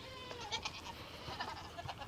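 Goats bleat faintly in a farm pen at feeding time, a few short wavering calls at a distance over a soft background hiss.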